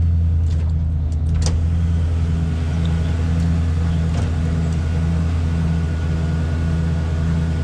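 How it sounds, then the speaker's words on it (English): A truck engine idles at a loud, steady, close rumble with a regular pulsing throb, running alone without talk. "y'all see me starting up the truck in this video"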